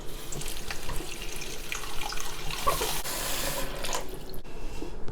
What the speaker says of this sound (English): cover chicken with cold water